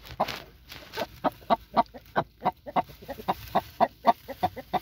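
A hen among Colombian black and white poultry clucking close by in a steady run of short, rhythmic clucks, loud and alone without talk.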